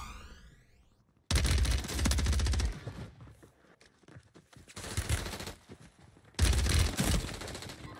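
Gunfire in the shooter Warzone: two loud, sustained bursts of rapid automatic fire, separated by a quieter stretch of scattered shots and movement, all close and punchy.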